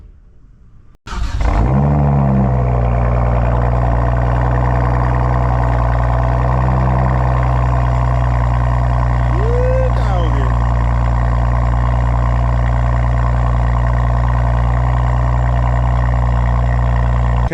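BMW 3 Series engine cold start: a sudden crank and catch about a second in, then a loud steady idle hums on close by with a brief rising whine partway through.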